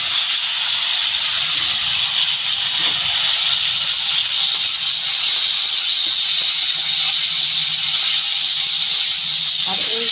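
Chopped, washed olives poured into a hot pan with mustard, giving a steady loud hiss of sizzling that holds throughout without letting up.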